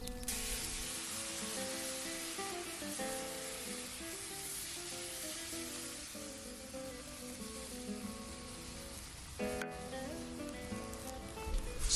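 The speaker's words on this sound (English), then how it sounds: "Full heat, a rolling boil for 8 minutes." Steady bubbling and sizzling of stock boiling hard at full heat in a pan, continuous and close, with no voices.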